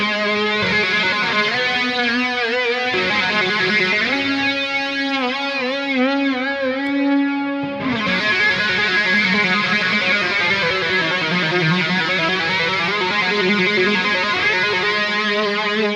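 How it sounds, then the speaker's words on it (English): Sustained electric guitar chords through a ToneX Brown Sound amp tone, drenched in swirling flanger, echoing delay and wide reverb, loud and continuous with a brief pause midway. "let's add flanger and let's add delay and reverb."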